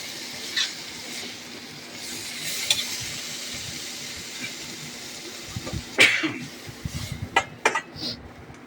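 Prawns frying in oil: a faint, steady sizzle runs throughout, with scattered clinks and scrapes of a utensil against the pan growing busier toward the end.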